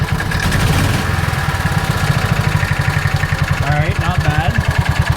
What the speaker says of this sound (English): If I whack this throttle